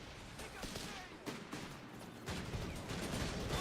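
Aircraft strafing run in the World War II strategy game Company of Heroes 3, a 2v2 match: rapid rattling bursts of gunfire and explosions, loud and dense throughout, rising into a heavier sustained barrage near the end.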